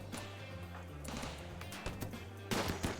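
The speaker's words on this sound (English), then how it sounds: "that kind of softer gunfire sound is this non-lethal pistol. Firing rubber pellets." A non-lethal pistol in the video game Rimworld fires rubber pellets with a few soft, muffled shots spaced about a second apart, layered over steady background music and game hum.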